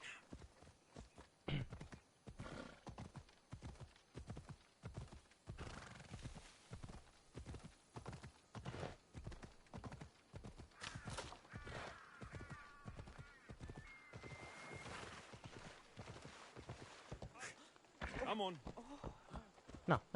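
Rhythmic clip-clop of horse hooves in the video game Assassin's Creed Odyssey runs steadily throughout, with a neigh partway through, while someone talks over it.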